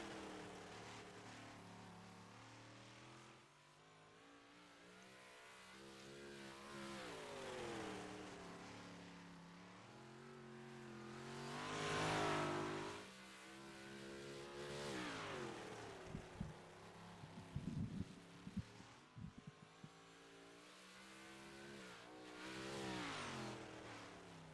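A race car engine runs extra laps on track, faint and distant, its pitch rising and falling repeatedly as it revs through gears and corners, with a few sharp clicks in the middle.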